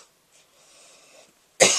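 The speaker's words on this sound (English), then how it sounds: "Sorry that I'm coughing" A single sharp cough bursts out loudly near the end after a few faint breaths and quiet rustling.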